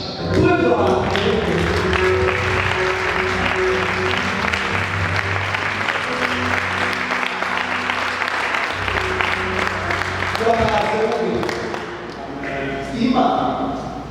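A church congregation at a gospel worship concert claps together in praise: loud, sustained rhythmic clapping over music and voices that fades briefly near the end before picking up again.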